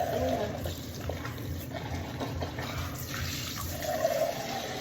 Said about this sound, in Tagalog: hugasan na natin yung water bottle